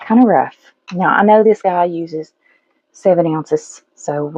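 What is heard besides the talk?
No distinct noise like a dog, phone or traffic.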